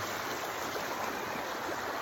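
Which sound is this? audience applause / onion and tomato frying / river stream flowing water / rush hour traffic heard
river stream flowing water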